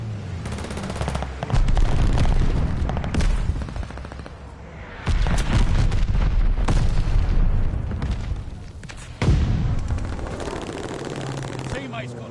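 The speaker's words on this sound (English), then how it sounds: "Teammate called a bombing run, heads up." Bombing run airstrike in a PS4 shooter game, with heavy bursts of gunfire and booming explosions in three loud waves, chattering fire running continuously underneath and voices faintly mixed in.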